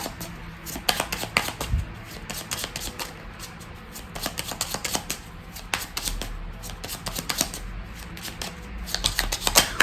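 Tarot cards shuffled and dealt onto a table, a close run of quick papery riffles and soft slaps that comes in bursts across the whole stretch, with no voices.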